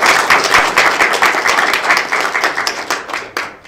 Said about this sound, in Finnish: Annetaan aplodit tässä vaiheessa.